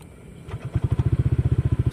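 A motorcycle engine cranks and catches, then settles into a steady, rapid idle putter of evenly spaced pulses, loud and close, with no talking over it.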